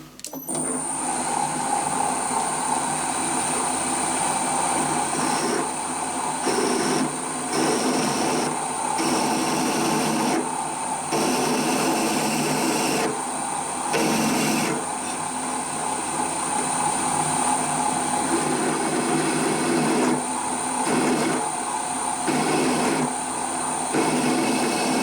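A metal casting for a Bridgeport collet rack has countersunk screw openings cut into it by a machine: a loud, steady whirring grind with a high whine, broken by a few short dips in level.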